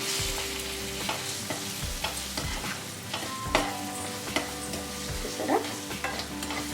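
Onions with garam masala, cumin powder and coriander powder being stirred in a frying pan, a soft sizzle under repeated spatula scrapes and taps against the metal, close and fairly quiet, no talking.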